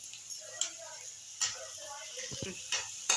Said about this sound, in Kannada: ಚೆನ್ನಾಗಿ ಬೇಯ್ತಾ ಇದೆ ಈರುಳ್ಳಿ